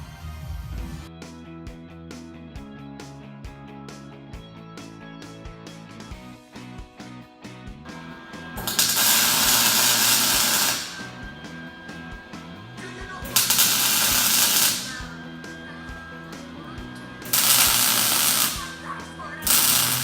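Tack welding brake caliper brackets for a Wilwood dual caliper rear brake install on a Nissan 240SX drift car: three loud sustained crackling buzzes of welding, each several seconds long, follow a stretch of quieter humming and clattering.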